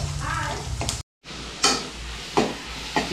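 Garlic and onion fry in a pan with a steady, broadband sizzle and a few sharp stirring scrapes, close and loud, briefly cutting out for a moment.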